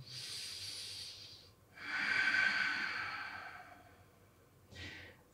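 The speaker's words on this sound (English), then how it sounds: "Just for a last deep breath." Slow, deep breaths during a yoga session: a long airy exhale, a pause, then a fuller drawn-out breath and a short final puff, soft and close.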